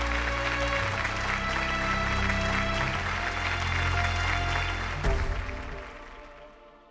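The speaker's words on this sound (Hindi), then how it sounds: "तालियां इनके लिए।" Audience applause at a Hindi TV competition show, a steady dense clapping wash running for about five seconds before tapering off and fading near the end.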